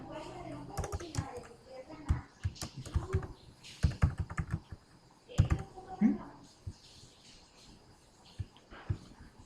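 Typing text on a computer keyboard during a computer lesson, with clusters of quick clicking keystrokes at close range running through most of the clip, interleaved with a man's speech.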